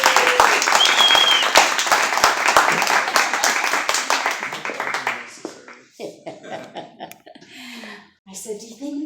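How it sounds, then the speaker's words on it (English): A congregation at Unity of Flagstaff gives loud, sustained applause with sharp individual claps, which fades out about halfway through as a few voices and some talking take over. "one more round of applause."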